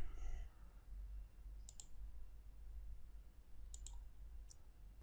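Faint computer mouse clicks come in small pairs over a low steady hum while shapes are designed in CorelDraw, a few quick taps spread across a quiet desk setting.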